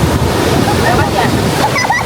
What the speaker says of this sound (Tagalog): Lakas pa ng alon, sarap.